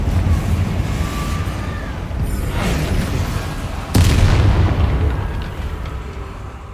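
Heavy booming blasts from the Confringo fire spell in the game Hogwarts Legacy roll over a dense rumbling battle bed, with one sharp, loud detonation about midway that rings out and slowly fades.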